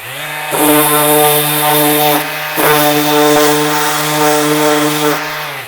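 A power sander working Pro-Core plywood veneer, a loud, close buzzing drone with a strong steady pitch, rising and falling in short surges as it bears down on the surface.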